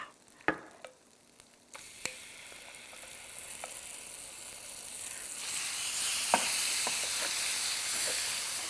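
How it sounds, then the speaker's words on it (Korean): Meat for bulgogi hits a hot pan of sesame oil with sharp clattering taps, then settles into a steady sizzle that builds louder and fuller as it fries. "자, 이번에는 여기다 참기름 넣고 고기 익혀요"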